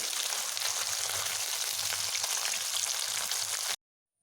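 Parshe fish frying in hot oil gives a steady, close, dense sizzle with a faint low bubbling underneath, running without pause for nearly four seconds before cutting to silence.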